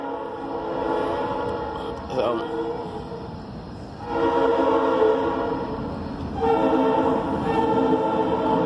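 A train passes nearby with a loud, sustained horn sounding in long repeated blasts over the steady rumble of the cars.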